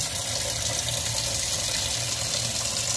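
Raw pork rinsed under a running kitchen tap, a steady loud rush of water splashing continuously into the sink with no pauses and no voices.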